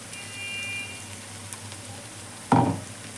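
Onions fry in oil with a low, steady hiss, then a brief, louder scrape and sizzle as they are stirred near the end.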